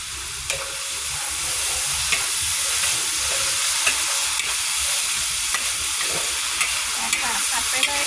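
Pork balls stir-fried with fresh bamboo shoots in a pan, a continuous dense sizzle with occasional scraping stirs and small clanks throughout.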